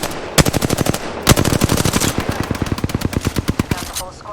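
Rapid automatic gunfire in Apex Legends, loud and close, with sustained fast bursts broken by brief pauses and a couple of heavier shots mixed in.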